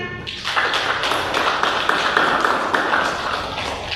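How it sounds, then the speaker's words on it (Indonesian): A group of students claps together in a steady, rhythmic beat in a classroom, a dense patter of many hands filling the room. "tepuk tangan"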